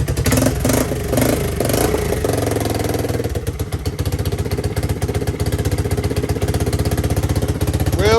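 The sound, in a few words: ATV engine running and revving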